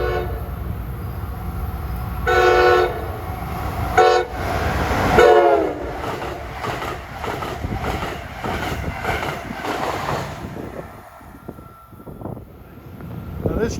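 New Jersey Transit deadhead train passing through Princeton Junction station, a loud rumbling roar with two horn blasts early on and rapid wheel clatter as it flies by, then fading.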